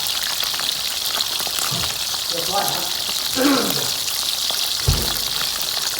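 Food sizzles and crackles steadily in a hot pan outdoors in a rice field, with brief speech and a few clinks partway through.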